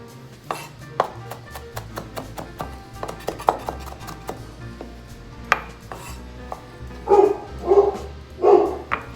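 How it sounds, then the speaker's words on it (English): A dog barks a few times in the background, louder toward the end, among clinks and chopping of goat steak nearby in a kitchen. "Well, the dog's barking."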